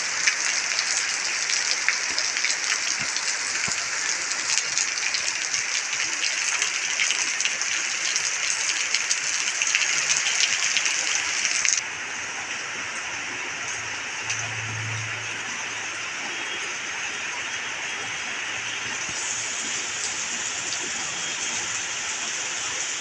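Steady rain pouring down outdoors, a dense, loud hiss that holds unbroken throughout and drops slightly in level about halfway, with no voices or thunder.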